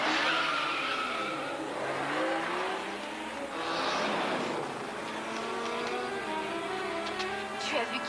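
A car speeds away with tires skidding and squealing, a loud sustained screech with engine whine that rises and shifts over several seconds, with voices talking over it.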